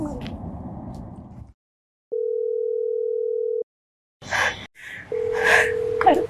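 A telephone ringback tone sounds while a call is placed: two long steady beeps separated by silence, with someone speaking before and between them.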